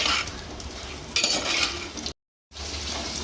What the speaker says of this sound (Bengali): একটু সামান্য লবণ দিয়ে আমি এটাকে ভেজে নেব।